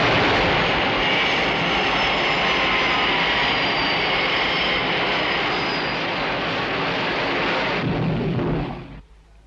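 An aircraft lands with a loud, steady engine roar that holds for several seconds, then cuts off abruptly and drops away near the end.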